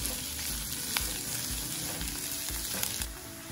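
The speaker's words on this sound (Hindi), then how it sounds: "अब हम इसमें डाल देंगे प्याज जिसको हमने लंबा इस तरीके से स्लाइस में कट कर लिया है। इसको भी हम 2-3 मिनट अच्छे से भून लेंगे।" Sliced spring onions sizzle steadily in a hot pan, a constant dense crackle with a few sharper pops and faint stirring, close by and with no talk.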